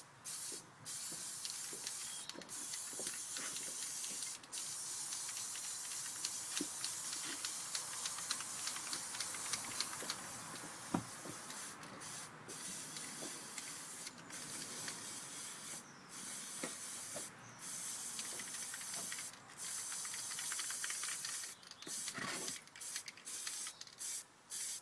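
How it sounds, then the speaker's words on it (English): Spray paint or coating is misted in bursts over the smooth back of a sculpted head, a close, steady aerosol hiss broken by brief pauses, with no voices. "I can do more of a blanket spray over the back because the back's smoother."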